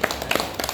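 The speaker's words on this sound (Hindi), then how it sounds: "अब एक से ये ताली बजाऊं" A quick run of sharp hand claps, close and fairly loud, with several separate smacks in under a second and no talk around them.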